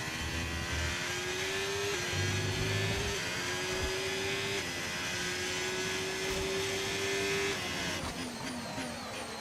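Formula 1 car engine in the F1 25 video game on the Canada track, a steady high-pitched whine climbing through repeated gear shifts, loud and continuous, with a brief deeper rumble early on.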